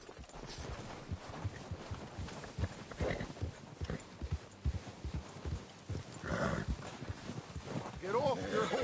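Horse hooves clip-clop steadily in Red Dead Redemption 2, a rhythmic, moderately close gait running under ongoing voices.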